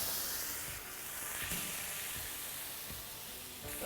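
Bacon strips sizzling on a Wildfire griddle over medium-high heat, a soft, steady hiss and crackle with small pops, fairly quiet and alone.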